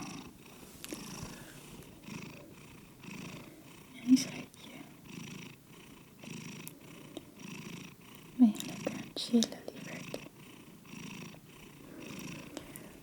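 A cat purrs softly and steadily up close in a quiet indoor setting, a low rhythmic rumble under gentle whispered talk.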